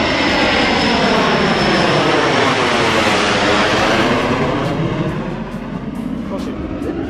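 Low-flying fixed-wing aircraft pass overhead near a Navy base by the beach, a loud sustained engine roar that swells and slowly shifts pitch before easing off toward the end.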